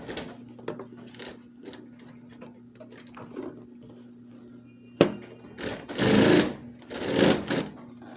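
A sewing machine stitches a fabric backpack strap, its rapid mechanical chatter running steadily with a low motor hum, then louder bursts of stitching near the end, close and without talk.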